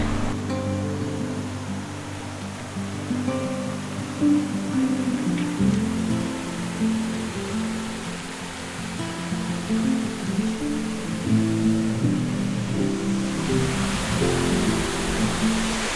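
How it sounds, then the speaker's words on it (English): A tufa waterfall flows with a continuous, moderately loud rush of falling water, steady with slight surges throughout and no talking. "So right behind us is the Tufa waterfall. I hope you can hear"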